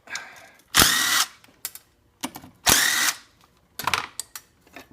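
Short bursts of a ratchet turning an 8mm socket on the bolts of a Mazda Miata starter motor bracket, three longer clicking runs with a few brief ones between, close and clear in a quiet space.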